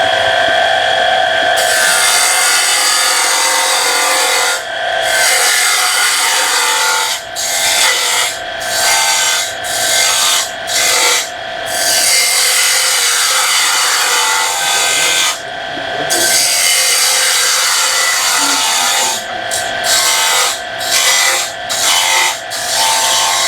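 Bowl gouge cutting wood on a lathe at a bowl-turning club meeting, a loud continuous scraping rasp that breaks off briefly several times as the tool is lifted and re-engaged, with no voices.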